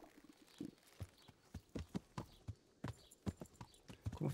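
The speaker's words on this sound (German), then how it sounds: "Da ist mein Pferd." Horse hooves clip-clop in an irregular walking rhythm of distinct knocks in the medieval video game Kingdom Come, played on Xbox; the steps are quiet and close, with no talk over them.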